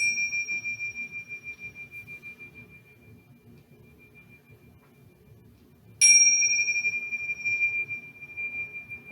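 Tingsha chimes ring with a bright, pure tone that slowly fades, then are struck again sharply for a fresh, long ringing decay over a soft low hum.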